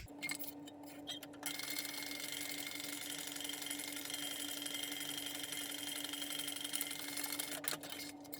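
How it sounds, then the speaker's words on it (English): A sewing machine top stitches along the folded top edge of a messenger bag, a quiet steady mechanical whir after a brief near-silent start, heard alone. "we're going to top stitch along the top folded edge at 1/8 of an inch"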